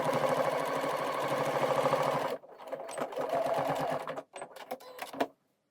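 A sewing machine runs in a fast steady stitch while sewing up a denim jeans waistband, then stops and restarts in shorter bursts before falling silent, close and clear.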